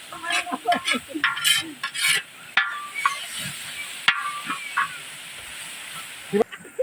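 Chili cooks in one large wok over a village fire, with a spatula stirring and scraping through a steady sizzle and occasional sharp clanks, while voices talk faintly nearby.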